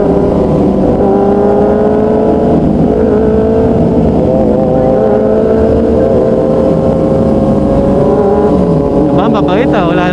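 A Benelli TNT 600i inline-four motorcycle fitted with an Austin Racing exhaust pulls hard in second gear, its loud engine note rising steadily over several seconds while people talk nearby.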